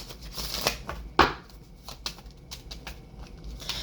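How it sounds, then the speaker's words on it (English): Oracle cards being shuffled by hand make quick papery riffles and soft slaps in a few short close bursts, with one sharper snap near the middle and light flicking after it. "let's get one or two oracle cards"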